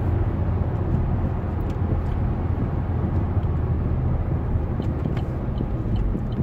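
An Opel car runs in fourth gear just after leaving the autobahn, a steady loud low engine drone and road rumble from inside the cabin, continuous and without talk.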